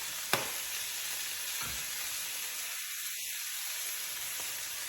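A steak seasoned with Montreal steak seasoning sears in a pan with a steady broad hiss and sizzle, continuous and moderately close, broken by a couple of brief clicks.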